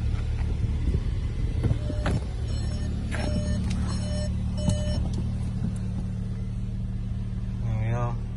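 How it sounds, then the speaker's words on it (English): An Audi S3 quattro 2.0 with 296 bhp idles in dynamic mode with a low steady engine rumble, the revs rising slightly, close up, with a few faint beeps and clicks over it. "Car running. It is in dynamic mode, hence the revs coming up."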